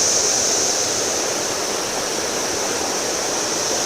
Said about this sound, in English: This is the waterfall coming out of the spring here.